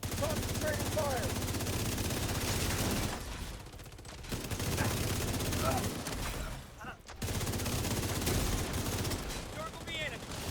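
Video game gunfire rattles in sustained automatic bursts, loud and dense, broken by two brief pauses, with a voice talking over the shooting.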